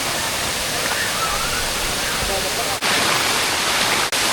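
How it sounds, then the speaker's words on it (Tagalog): Daranak Falls in Tanay, Rizal, a steady broadband roar of falling water filling the whole clip, continuous and close, with two brief dips in level near the end. "Yung waterfalls ng Daranac Falls"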